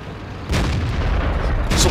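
A tank cannon fires at a Hellcat tank destroyer in a video game battle, a heavy booming shot after a half-second lull, followed by sustained rumbling and a second sharp crack near the end.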